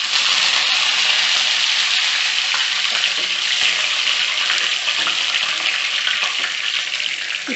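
Tempering spices and curry leaves frying in hot oil, a loud, steady crackling sizzle with sharp pops throughout and no voices.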